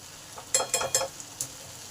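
A ground paste of ginger, cumin, coriander and dried chilli stir-fried with half-cooked potato, pointed gourd, pumpkin and drumstick in a pan: a soft sizzle under four quick spatula scrapes in a row, no voices.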